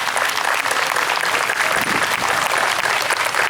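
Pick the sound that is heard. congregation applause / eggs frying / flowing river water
congregation applause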